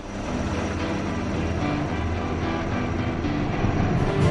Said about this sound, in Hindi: 4 advanced light helicopter diamond formation के जरिए पेश करेंगे असाधारण करतब।